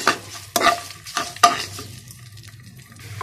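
Spices and asafoetida frying in a pan for dal, with a few quick close scraping stirs and clinks over a soft steady sizzle that fades toward the end.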